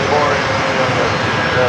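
Steady broadband roar of an airliner engine on a Delta flight to Kahului, heard from inside the cabin as a continuous loud rumble with a faint tonal whine, unbroken for the whole stretch.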